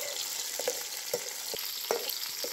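Onions and dried red chillies sautéing for a Tamil pirandai thuvayal, a soft continuous sizzle broken by several short spatula scrapes, close and fairly quiet with no talking.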